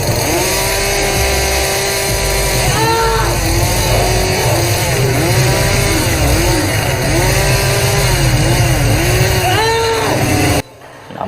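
Chainsaw from the Indonesian horror film Rumah Dara, a loud continuous motor whine with repeated revving swells, running for about ten seconds and then cutting off abruptly.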